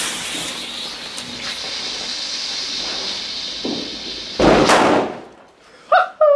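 Fireworks and firecrackers go off outdoors on New Year's Eve with a long hissing burn, then a sharp loud bang, followed by a few quick pops at the end.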